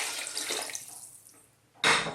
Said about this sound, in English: I'm just going to add some water to that